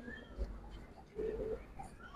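Bagha silver pigeons give a brief low throaty coo, close and soft, over a faint background murmur.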